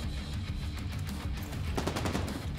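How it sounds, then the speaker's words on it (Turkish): Sustained automatic gunfire from enemies in The Division 2 at the Tidal Basin stronghold, dense rattling bursts that run continuously and grow heavier toward the end, with no talk over them. "Nereden sıkıyor bu adam ya?"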